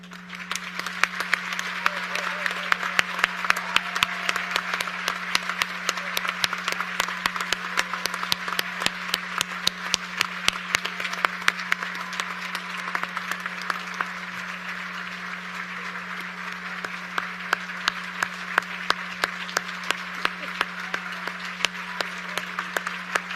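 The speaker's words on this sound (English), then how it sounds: "Please remain standing so that your families and friends can applaud you." Sustained applause from a graduation commencement audience clapping for degree recipients, dense and steady throughout with a continuous low hum underneath.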